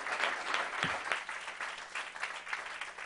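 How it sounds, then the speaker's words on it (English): An audience claps for the candidates at a city council candidates forum, a sustained wash of many hands at moderate volume, filling the room evenly with no talk over it. "So applaud. Thank the candidates."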